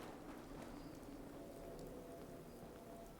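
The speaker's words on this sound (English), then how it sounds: "enjoy the rain sounds" Quiet, steady rainfall in Fallout 4, a faint even patter with occasional light drips and no talking.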